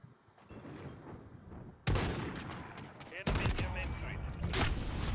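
Gunfire in a first-person shooter video game, dense bursts of rapid shots that erupt suddenly and keep going loudly over a rumbling background.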